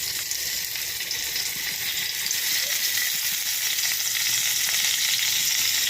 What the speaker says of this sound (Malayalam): എന്നിട്ട് നമുക്കത് എണ്ണയിലിട്ട് പൊരിക്കാം.